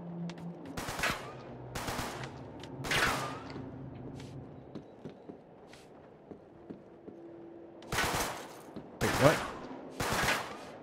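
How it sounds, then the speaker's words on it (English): Enemy gunfire in the video game Uncharted 3, heard as several sharp bursts of shots, three early and three later, with quieter clicks and footsteps in between. "Where is this dude that's still shooting at me?"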